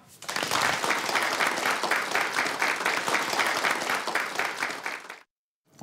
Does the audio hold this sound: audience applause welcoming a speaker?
yes